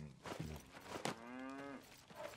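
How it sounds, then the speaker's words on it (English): Cows moo in a video game, one drawn-out, loud lowing call rising out of a busy farmyard clamor of shorter animal grunts, with no voices. "Shut up, cows."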